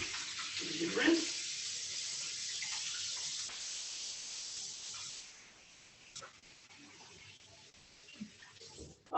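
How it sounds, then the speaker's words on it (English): Tap water runs steadily for several seconds while hands are rinsed at a kitchen sink during meal prep, a broad hiss that tapers off into quieter drips, with voices talking in the background. "So wash my hands again. Give it a good rinse."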